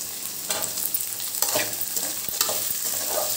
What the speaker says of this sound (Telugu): వీటిని కూడా 1 నిమిషం పాటు వేయించుకోవాలి.